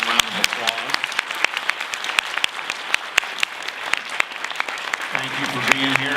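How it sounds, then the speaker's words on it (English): Applause closes a speaker series Q&A, a bed of crowd clapping with sharp individual claps standing out near the microphone, and voices talking over it at the start and end. "a big round of applause"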